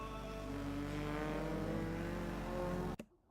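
A race car engine roars steadily at high revs, then cuts sharply near the end as a gear shift drops it to a faint rumble.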